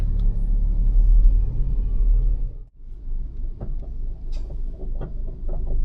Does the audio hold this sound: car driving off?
yes